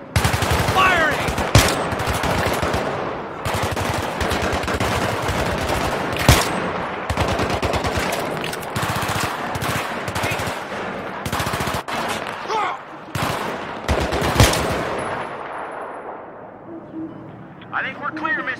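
Gunfire in the Battlefield 3 mission Operation Swordbreaker: dense bursts of automatic rifle and machine gun fire crackle loudly in rapid rhythmic volleys with occasional heavier blasts, mixed with game voices and battle noise, tapering off near the end.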